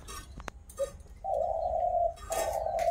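A dove coos in a Sundarbans village, giving two sustained, fairly loud calls in the second half after a few scattered knocks and clicks, with no talking.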